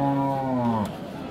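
A Friesian cow with her calf at a rural cattle market in Dinajpur, one loud close moo lasting under a second, then fading into the market murmur.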